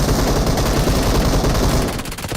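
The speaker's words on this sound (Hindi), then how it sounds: "मेरे को लगा अपने टीममेट गोली चला रहे" Rapid automatic gunfire in the BGMI battle-royale game: a dense, loud, continuous burst of shots that thins out slightly near the end, with no talking over it.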